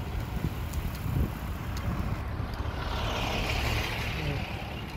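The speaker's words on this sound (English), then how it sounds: "Heck of a traffic backup here." Idling trucks and cars sit in a stopped traffic backup on a road in northern Washington, giving a steady, close low rumble mixed with wind noise throughout.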